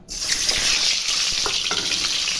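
Eggs frying lightly in oil in a wok make a steady, close sizzle that starts suddenly and holds at an even level, with a few soft spatula clinks partway through and no talking.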